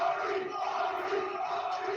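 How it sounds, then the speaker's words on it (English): Wrestling crowd at a live NXT event chanting for the Hardys, a dense, steady roar of many voices filling the arena without a break. "Whole crowd is chanting Hardys"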